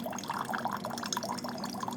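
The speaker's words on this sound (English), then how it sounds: "Something like there's hot water coming out." Hot water streams steadily from a Waterdrop A1 reverse osmosis hot and cold water filter dispenser, a continuous close pouring and filling sound with light splashing and no talking.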